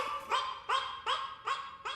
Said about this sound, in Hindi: लग रहा है गली का कुत्ता है जो बहुत खुजली वाला है और कीचड़ से लपटा हुआ आ गया